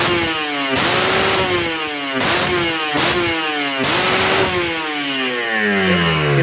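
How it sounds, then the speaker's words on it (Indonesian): Kawasaki Ninja two-stroke motorcycle engine revved hard to high RPM, a series of sharp rising blips and screaming revs that drop back between pulls, loud and close, with a final rev sliding down toward idle and no talking. "Kita lihat RPM atasnya."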